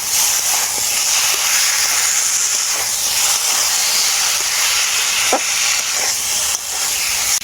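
Spice paste and vegetables for neem shukto fry in a pan with radhuni, giving a loud, steady, close sizzling hiss that stays constant throughout with small crackles, no voices.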